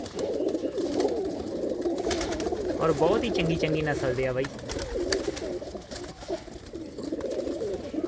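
Pigeons coo continuously in a loft, a soft, throaty burble that keeps going under someone talking nearby.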